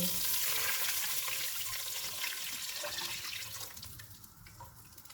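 Water poured into a hot pot of frying beef masala, a loud rushing, hissing splash at first that gradually fades into quieter bubbling.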